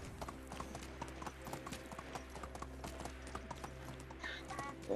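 A donkey ridden in the video game Medieval Dynasty clip-clops along at a brisk pace, its hoofbeats forming a fast, even rhythm over a low steady hum, with no talk.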